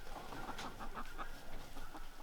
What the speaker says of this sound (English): That rooster in the background though